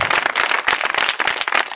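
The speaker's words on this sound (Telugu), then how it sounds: "చప్పట్లు కొట్టి స్తోత్రం చెప్పండి." A church congregation claps in praise, a dense, loud burst of many hands applauding throughout with no voices over it.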